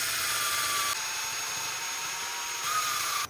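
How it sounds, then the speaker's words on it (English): A power drill fitted with a 3/4-inch bit bores into a styrofoam head, giving a steady high whine that changes pitch slightly as the load shifts, close and continuous with no talking. "I'm using the drill just to remove a bulk of the styrofoam"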